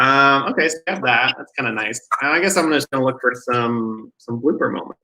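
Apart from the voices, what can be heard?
No distinct noise like a dog, phone or traffic.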